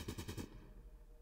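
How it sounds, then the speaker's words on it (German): Rapid machine gun fire in the video game Fallout Tactics: a quick burst of about five sharp, loud shots in even rhythm, then a lingering rumbling tail with no talking. "Komm schon, ein paar Schüsse noch"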